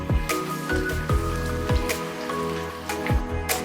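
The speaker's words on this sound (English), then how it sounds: "I've got some oil sizzling away in the pan, and I'm going to sear some apricots with a bit of soy sauce" Apricots searing in sizzling oil in a pan with tamari soy sauce, a steady crackling sizzle with rhythmic louder spits and pops recurring about every half second over background music.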